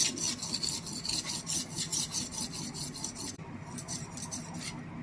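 A steel chisel sharpened on a stone, a steady gritty rasp in rapid back-and-forth strokes that continue without pause for several seconds, close and loud, with no one talking.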